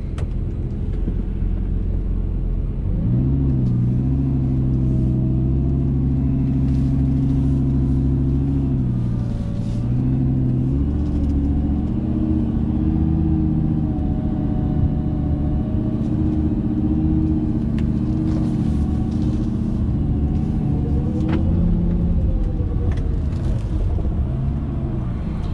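2007 Lamborghini Gallardo coupe with a 5.0L V10 engine in sport mode, droning loud and close from inside the cabin while driving, its pitch rising and falling with shifts and acceleration.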